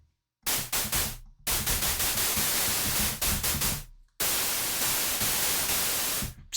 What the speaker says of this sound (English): there's this noise generator